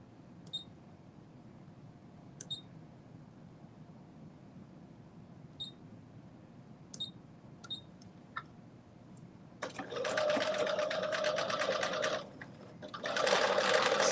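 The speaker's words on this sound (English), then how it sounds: "We are gonna sew this up, 5/8 of an inch." Sewing machine stitching a 5/8-inch seam, running in two steady bursts near the end after a quiet stretch of faint clicks and taps, close and alone without talk.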